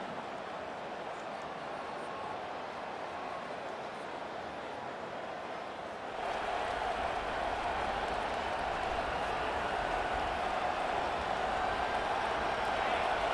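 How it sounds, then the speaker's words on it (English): A stadium crowd roars in EA Sports College Football 25 during an LSU Tigers versus Arkansas Razorbacks game, a steady wash of cheering that swells louder halfway through. "This crowd, full throat, splitting the eardrums and letting them know it's going to be a long day."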